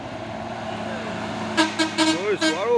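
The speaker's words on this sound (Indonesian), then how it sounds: "Lagi satu unit bus ALS antar lintas Sumatera." An ALS inter-Sumatra bus passes on the road, sounding a series of short, loud, pitch-bending horn blasts over the steady traffic rumble, with a voice nearby.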